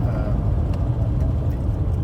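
A 42-year-old Austin Allegro's engine, running rich, idles with a steady, close, low rumble that holds unbroken for the whole stretch, with no voices over it.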